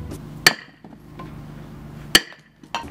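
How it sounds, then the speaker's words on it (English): Glass being broken, heard as two sharp, loud cracking impacts about a second and a half apart, plus a smaller third hit at the end, with quiet rustling between and no talk. "Should we just break the glass and..."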